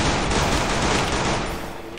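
Rapid gunfire in the Free Fire video game, a dense loud burst of shots filling the whole moment before tapering slightly at the end.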